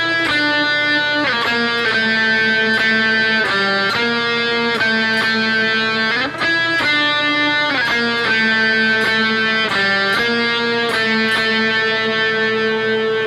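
An electric guitar plays the riff of a song, a repeating pattern of sustained chords and shifting notes, loud and continuous for about thirteen seconds with no talking.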